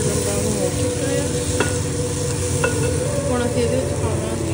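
A tadka for rajmah fries in a pan until golden brown, giving a loud, continuous close-up sizzle with a few faint clinks of stirring throughout.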